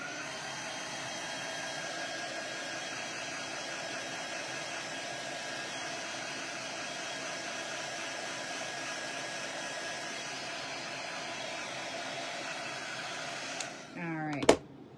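A handheld hair dryer blows steadily and loudly for about fourteen seconds to dry chalk paste on a craft project, then clicks off with a short clatter at the end.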